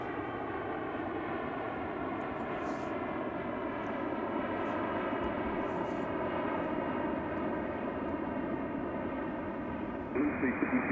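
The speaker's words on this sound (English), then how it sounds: "So they're taking off on the intersecting runway, which we haven't seen much of today." Airplane taking off from a runway at Reagan National Airport, a steady, sustained engine roar at moderate distance that holds throughout and swells slightly louder near the end, with no talk over it.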